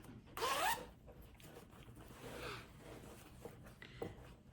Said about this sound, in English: We're going to open up, the zipper.